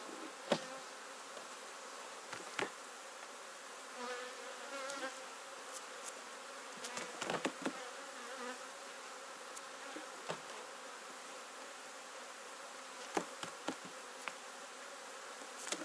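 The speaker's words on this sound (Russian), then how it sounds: "Вот здесь немножко меньше пчел" Honey bees hum around an opened hive while honey supers come off and the brood nest is checked, a soft continuous drone with occasional clicks and knocks of frames, fairly quiet and without speech.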